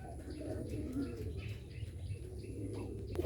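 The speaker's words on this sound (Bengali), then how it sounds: "চালের উপরেও ডাকাডাকি করতেছে কবুতর" Bombay and Rajshahi giribaz pigeons call from a rooftop in soft, low cooing phrases, with occasional chirps and a brief flutter of wings, faint and somewhat distant over a murmur of background voices.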